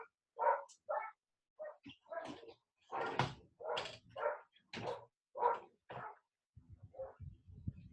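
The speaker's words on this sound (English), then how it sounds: "So you can hear him in the background. He keeps going off and off and off." A neighbor's dog barks repeatedly in the background, a steady run of sharp, mid-distance barks with short pauses, followed by a softer low rumble at the end.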